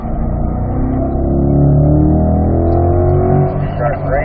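A Corvette engine accelerating on a race track at a driving school, a loud, close, steady drone whose tone climbs as the car speeds up, then eases slightly near the end.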